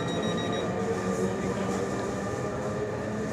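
Constant rumble and hiss of a train at a Swiss railway station platform, with faint squeals and a dense noisy wash filling the space, no clear speech.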